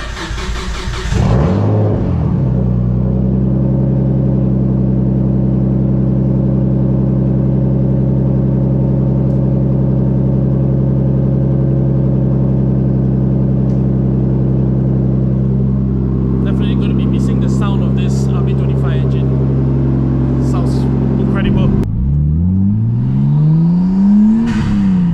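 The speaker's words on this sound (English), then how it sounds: "I hope this car starts." A Nissan Cefiro A31 engine cranks and catches, then settles into a steady, loud idle with a low, even rumble. Near the end the engine revs up briefly, rising in pitch, and the car stays close throughout.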